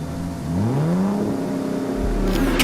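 A Bugatti Veyron's huge engine revs up, its pitch climbing and then holding in a loud, close roar, with a sharp burst of extra noise near the end.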